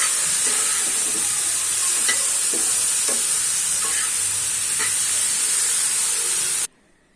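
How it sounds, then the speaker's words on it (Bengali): Bitter gourd frying in a pan, a steady bright sizzle with a few soft stirring scrapes, continuous and close, cutting off abruptly near the end. "এখন করলা ভাজি আমি উঠিয়ে দিলাম। এটা এখন সুন্দর মতো ভেজে নেব।"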